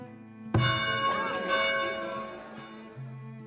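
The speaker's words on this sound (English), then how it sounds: "So let's hit the bell." Alarm bell in the Farthest Frontier video game, struck once with a sharp clang and a long ringing decay of layered tones, loud and close, with a faint low hum under it.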